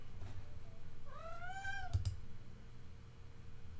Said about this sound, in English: My cat's yelling at me because he's bored.